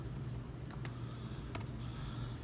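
Quiet typing on the shallow chiclet keyboard of an Acer Chromebook CB3-532, soft irregular key taps close to the microphone over a low steady background hum.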